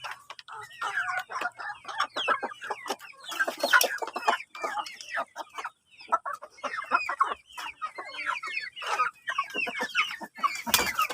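Native chickens cluck and chatter steadily while feeding, a dense flock of close, overlapping calls with a few louder squawks mixed in and no talking.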